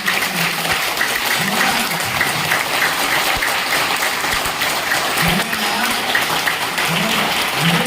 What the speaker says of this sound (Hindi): तो एक बार सबसे पहले 3H के लिए एक बार जोरदार तालियां